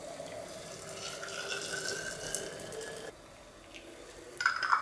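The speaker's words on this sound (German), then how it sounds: "Und jetzt können wir den Obst mit heißem Wasser übergießen." Boiling water from a kettle poured over fruit and berries in a glass jar, a soft steady trickling stream that stops partway, followed by a faint clink of glass.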